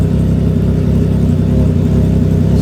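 Triumph Trident 660 motorcycle engine running through its exhaust, a loud, steady close-up drone with a continuous rumbling low end and no voices.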